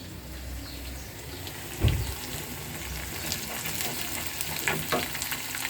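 Dal being tempered in hot oil sizzles steadily with a bright frying hiss and crackle, one louder splatter near the start, continuing close and alone with no talk.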